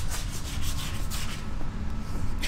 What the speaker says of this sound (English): What are you doing? Sanding.